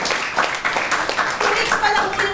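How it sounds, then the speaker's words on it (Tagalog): An audience at a business talk gives a short burst of applause, fairly close clapping mixed with some chuckling and murmuring voices. "Chris Painsan, palakpak."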